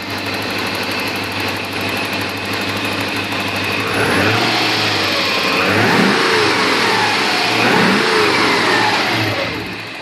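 A 1987 Porsche 928 S4 engine, heard close, idles and then revs up twice in short blips, each rising and falling back to a smooth idle.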